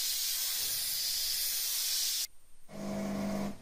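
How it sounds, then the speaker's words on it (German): A premium steam vacuum cleaner sprays a loud steady hiss while cleaning a robotic lawnmower housing, cuts off briefly, then restarts with a hiss and a low motor hum. "im Anschluss mit dem neuen Premium-Dampfsauger gereinigt."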